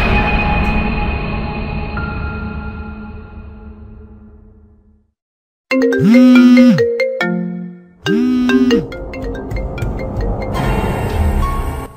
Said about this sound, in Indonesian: Ponsel berdering.